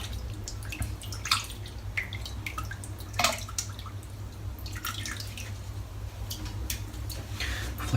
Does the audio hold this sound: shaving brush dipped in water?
yes